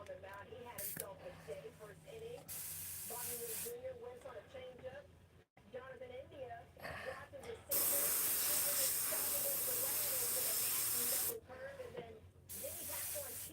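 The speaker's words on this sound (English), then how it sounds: "I need to spray it white" White paint sprayed from a can in long steady hissing bursts, including one loud sustained blast of several seconds, with someone talking in between.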